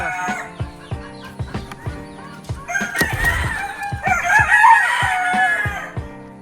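Five-month-old native desi chickens cluck repeatedly up close in short bursts, and a rooster crows loudly partway through.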